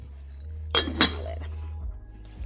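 A pot lid clinks against a cookware pot while hot cocoa heats on the stove, two quick metallic taps close by over a low steady hum, then quiet.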